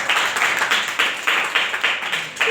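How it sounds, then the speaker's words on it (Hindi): A classroom of students clapping together for a girl during a maths lesson, a steady patter of many hands in uneven pulses, fairly close and continuous with no talking. "जोरदार तालियां इस बच्ची के लिए।"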